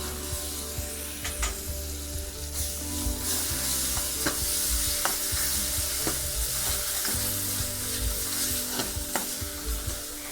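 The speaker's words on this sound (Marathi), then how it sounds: "फोडणी आपण 2 मिनिटं चांगली परतून घेतलेली आहे" Onion and coconut masala tempering for masoor amti being stirred and fried in a pan on low gas, a steady close sizzle with intermittent scraping stirs and clinks, no talking.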